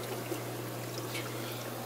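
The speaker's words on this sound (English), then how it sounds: "put it above, drip it down into your sump." Water from a gallon jug dripping into an aquarium sump, a soft continuous trickle and splash under a steady low pump hum, faint and unbroken.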